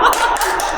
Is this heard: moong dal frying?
no